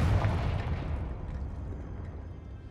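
Confringo blasting spell detonating in the Hogwarts Legacy video game, a single loud booming explosion with a heavy low rumble that decays slowly over a couple of seconds, heard alone.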